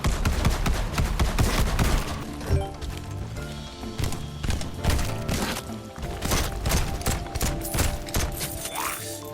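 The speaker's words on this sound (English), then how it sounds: "Looks like each bullet causes... yeah, an explosion every time it punches through it." Bursts of gunfire in the zombie shooter Zombieville USA 3D, each bullet setting off an explosion as it punches through, giving steady loud crackling volleys with game effects and music throughout.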